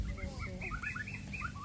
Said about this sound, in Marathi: बघा आता आहे ना पक्ष्यांचा आवाज.